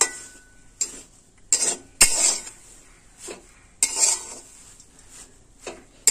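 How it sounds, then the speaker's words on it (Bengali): Khesari greens stirred in a pot, with a lid set on top: a handful of sharp metallic clinks and scrapes of spoon against the pot, spaced irregularly over soft background noise, close by and with no talk. "একসাথে এটাকে আবার নাড়িয়ে চাড়িয়ে একটু ঢাকনা দিয়ে আবারও শাকটাকে সেদ্ধ করে নেব"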